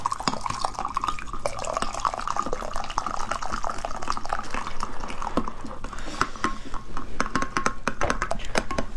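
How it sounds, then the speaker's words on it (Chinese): Boiling water from an electric kettle is poured into a bowl while being stirred quickly, giving continuous splashing and liquid gurgling with rapid clinking and dripping, close and fairly quiet. "然后边倒边给它快速的搅拌。"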